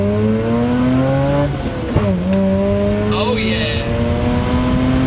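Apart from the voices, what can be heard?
Mazda RX-8 revving hard after shifting into second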